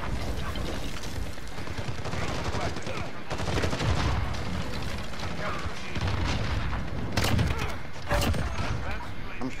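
Gunfire in Rust on a hardcore server, with repeated bursts and booming shots scattered across the span amid battle noise, while people talk over it.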